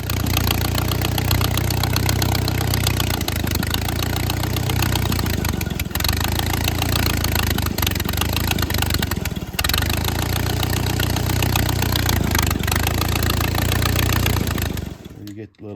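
Ford 9N/2N/8N tractor engine idling steadily and loudly up close, a constant mid-pitched chug that holds for most of the stretch before cutting off abruptly near the end.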